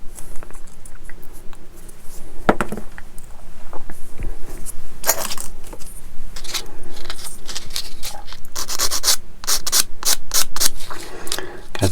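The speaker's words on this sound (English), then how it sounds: "these sanders I'm using are from UMP" Small sanding sticks from a UMP multi-kit rubbing across a model part in close, continuous scratchy strokes, with irregular brisk passes and light clicks, and quieter handling between them.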